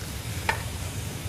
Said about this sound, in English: So right now it's boiling